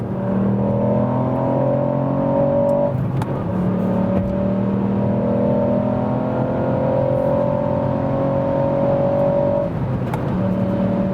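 A 2021 Ford Puma ST with a 200 hp small-displacement three-cylinder engine accelerates hard from about 100 km/h, a loud steady engine drone rising in pitch with brief dips at gear changes, heard from inside the car.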